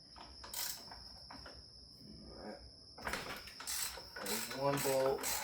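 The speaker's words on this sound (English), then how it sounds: "Looks like I only put 3 bolts back in it, so see if I'll be able to get the 3 bolts back out." Wrench working bolts loose during disassembly of an IROC car, a few sharp metallic ratcheting clicks and clanks in separate bursts, close and fairly quiet with a faint steady whine in the background.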